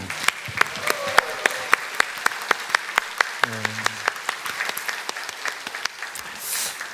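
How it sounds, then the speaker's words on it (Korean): A church congregation at a Sunday service claps in sharp, evenly spaced beats with some cheering, the claps loud and rhythmic throughout, while a voice speaks briefly in the middle. "우리 다 같이 환호와 박수로 환영하겠습니다"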